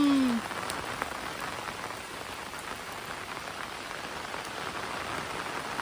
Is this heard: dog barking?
no